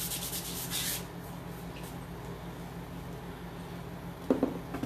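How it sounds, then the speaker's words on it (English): Steady soft rubbing of a sanding pad across the tops and edges of wooden furniture knobs, with a brief louder scuff near the end. "Just sanding over the tops of them, making sure I get around the edges too."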